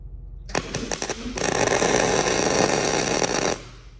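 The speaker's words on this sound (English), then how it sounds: "The welder doesn't like welding upside down." Welder working upside down on farm equipment: a few short crackling bursts, then a steady, loud buzzing crackle for about two seconds before it stops abruptly, close by, with no talk.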